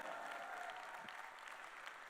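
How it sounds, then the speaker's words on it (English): Steady clapping from an audience at a large real estate training seminar in Dubai, dense and continuous for the whole moment, with a faint murmur of the crowd beneath. "I would like to hear a round of applause for Dubai being the city of the impossible"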